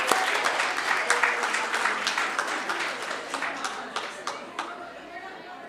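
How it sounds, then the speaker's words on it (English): A board meeting room breaks into applause for a retiring staff member, dense clapping from a crowd that thins into scattered claps, with murmured voices under it. "let's give her a big round of applause"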